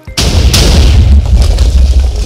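A TNT cannon fires in a video game, one loud sudden boom that rolls into a long, heavy, rumbling blast tail filling the rest of the moment.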